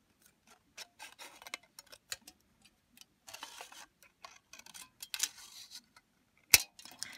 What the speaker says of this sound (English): Aluminum soda can cuts easily with regular scissors.